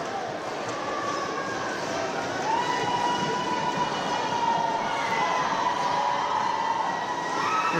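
Crowd noise swelling steadily at a college men's basketball game in Scarborough, a dense continuous roar with rising whistle-like tones that builds toward the end.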